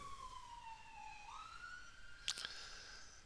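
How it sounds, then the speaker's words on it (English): An ambulance siren sweeps past in the distance, a faint wailing tone rising and falling, with a brief sharp knock near the end. "And there went our ambulances."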